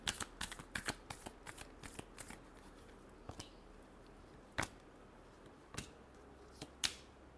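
Tarot cards are shuffled by hand in a quiet room, a burst of quick riffling flicks followed by scattered sharp single snaps and taps, close and faint.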